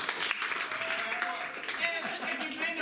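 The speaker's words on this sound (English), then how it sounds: "Please clap if this is your first Fist show" Audience clapping at an improv comedy tournament in a small theater, a sustained ripple of hands with voices and cheers mixed in throughout.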